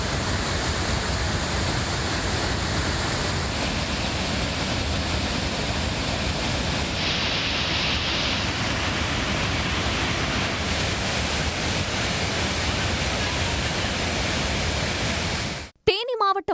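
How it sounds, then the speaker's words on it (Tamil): Manimuthar waterfall in the Western Ghats, flooded after heavy rain, gives a loud, steady rushing roar that runs unbroken before cutting off abruptly at the very end. "மேற்கு தொடர்ச்சி மலைப்பகுதிகளில் பெய்த கனமழையால் மணிமுத்தாறு அருவியில் வெள்ளப்பெருக்கு ஏற்பட்டுள்ளது"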